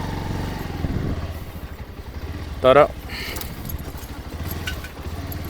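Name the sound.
motorcycle riding on a narrow footpath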